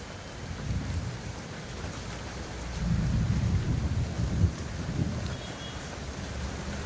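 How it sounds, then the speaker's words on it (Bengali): Steady rain falls outdoors, a dense wash of hiss with low rumbling thunder swelling in the middle and rolling on, loud and continuous with no voices. "বোঝা যাচ্ছে কেমন বৃষ্টি হচ্ছে।"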